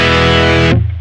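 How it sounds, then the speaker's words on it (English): A Boss GP-10 guitar synth plays a loud sustained chord through its poly hex distortion, dense and buzzing, then cuts off abruptly, leaving a brief decaying tail. "the Poly Effects Hex Distortion in the Boss GP-10"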